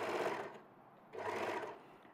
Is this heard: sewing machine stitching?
yes